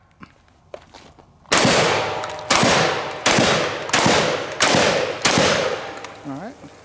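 Beretta 1301 Gen 2 shotgun firing outdoors, six loud close blasts in a steady rhythm about a second apart, each with a ringing decay, after a few faint thumps and with a brief voice at the end.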